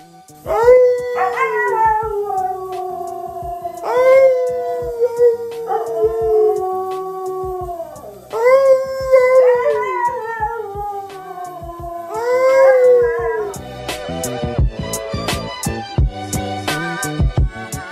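A Siberian Husky howls close and loud in long, wavering, drawn-out cries that rise and fall, several howls in a row, before sharp percussive music beats take over near the end.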